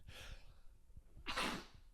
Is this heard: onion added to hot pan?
no